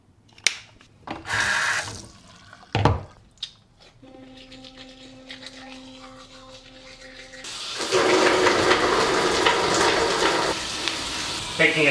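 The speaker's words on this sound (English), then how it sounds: "taking a shower." A shower starts running after some bathroom clatter and a brief hum, and the water then pours in a steady, loud hiss that continues to the end.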